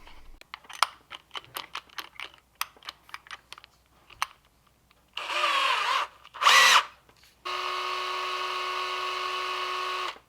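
A power drill bores through PVC pipe in two short, loud whirring bursts, followed by a longer steady drilling run, after a stretch of light clicking and tapping handling noises.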